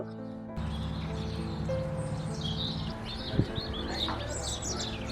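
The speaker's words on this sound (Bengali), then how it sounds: "চারপাশ থেকে প্রচুর পরিমাণে পাখির আওয়াজ আসছিল" Birds chirp and tweet repeatedly in the open air of a village in Luss, Scotland, several calls overlapping over a low steady hum and faint background sounds.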